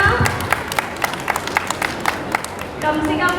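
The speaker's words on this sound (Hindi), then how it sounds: "जोरदार तालियां।" An audience at a religious quiz show held for a Mahavir Kalyanak festival gives a round of applause, with scattered sharp claps running under an announcer's voice throughout.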